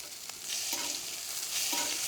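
A ribeye steak pan-searing on a stovetop gives a steady sizzle and hiss, with two brief clatters from the pan or a utensil partway through.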